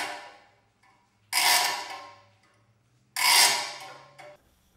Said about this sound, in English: I'm gonna have to cut these things with the hacksaw